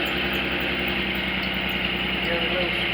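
A Subaru XT6 engine in a custom-built three-wheel car idles with a steady, even rumble and a faint high whine, unchanging throughout.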